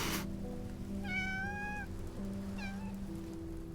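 A video game cat meows twice, a long clear call followed by a shorter one, over a steady low background tone.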